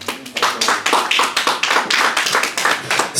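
A church congregation claps steadily and enthusiastically in a dense burst of applause, loud and close, sustained across the whole moment without speech.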